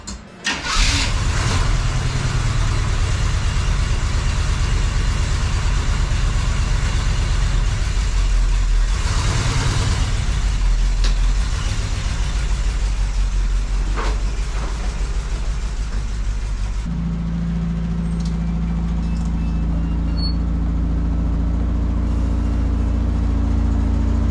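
An engine starts up and revs loudly close by as a truck is driven out of a garage and a VW Beetle is brought in, then settles into a lower, steady idle rumble with no talking.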